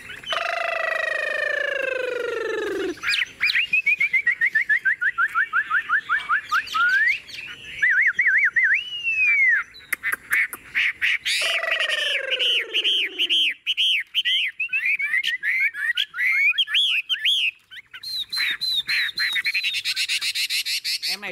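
A tame caged Chinese hwamei sings loud and close, with long runs of varied whistles, rapid trills and sweeping slurred phrases that continue almost without pause and stand clear with no talk.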